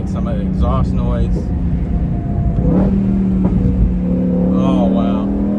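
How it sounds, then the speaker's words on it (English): A Ford Mustang GTD's exhaust drones and rises under acceleration, a steady low rumble with a climbing tone heard from inside the car, while people talk loudly over it at intervals. "Down a little bit so you guys can get some of the exhaust noise."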